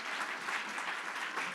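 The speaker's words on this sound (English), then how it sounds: "can we just first give a huge round of applause to Cleveland Neighborhood Progress staff" An audience at a lunch panel in Cleveland claps in a brief, faint, even patter of applause heard from a distance.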